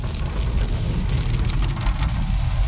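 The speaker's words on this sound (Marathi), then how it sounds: "नाशिकमध्ये जोरदार पाऊस येतोय" Heavy rain pours down in Nashik, a dense continuous hiss of drops striking surfaces, loud and steady from start to finish.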